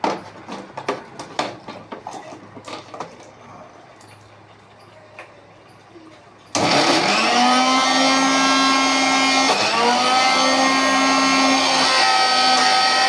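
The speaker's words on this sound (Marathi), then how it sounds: "चला मिक्सर लावायला सांगितलं आहे श्वेताने. मिक्सर लावूया" A kitchen mixer grinder grinds soaked dal into batter for bhaji, starting abruptly after a stretch of scattered clatter and handling noises, then running as a loud, steady whine with a brief dip in pitch midway.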